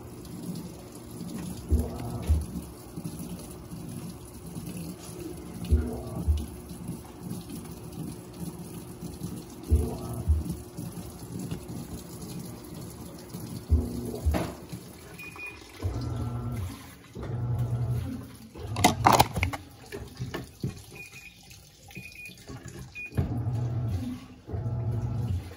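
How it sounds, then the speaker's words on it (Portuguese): A Panasonic 14 kg cyclone-system top-loading washer (NA-F140B6) fills with water for the rinse, making a continuous rushing, splashing pour with low thuds and a brief click partway through. "agora ela começou a encher para o enxágue"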